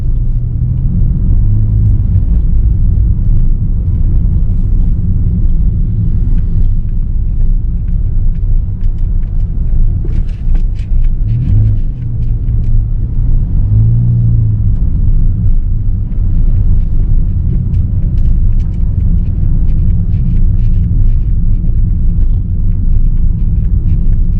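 A car driving on a Thai road gives a steady, heavy low rumble from inside the cabin, with passing traffic swelling briefly midway and no voices over the continuous engine and road noise.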